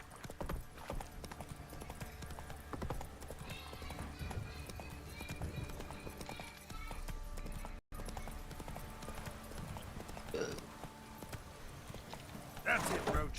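Horse hooves clip-clop at a steady trotting rhythm in The Witcher 3: Wild Hunt, close and continuous, with a whinny near the end and someone speaking over the gallop.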